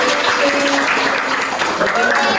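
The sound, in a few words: applause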